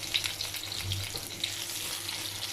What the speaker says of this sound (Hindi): घुमाते हुए हम लोगों ने फ्राई कर लेना